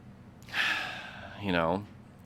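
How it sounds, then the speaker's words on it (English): A slow, deep breath drawn in close to the microphone, then let out as a soft voiced sigh that rises and falls before a small click at the end. "sometimes we can just take a couple of deep breaths"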